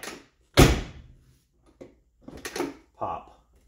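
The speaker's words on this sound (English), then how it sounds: "You push the button and the door pops open." The door of a 1970s-80s Ford car pops open at its striker with one sharp close clunk, followed by a few softer thuds and clicks as the door moves, all in an otherwise quiet space.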